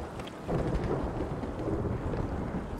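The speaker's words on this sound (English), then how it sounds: "Why does it sound like a thunderstorm?" A thunderstorm rumbles inside the video game SOMA: a steady, loud wash of low, broad roaring noise like heavy rain and distant thunder, swelling slightly after the first half-second and holding without pause.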